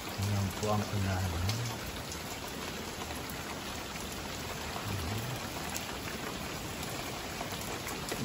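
Rain pouring down in Los Angeles, a constant hiss of drops on surfaces heard close and even throughout, with a voice talking briefly at the start.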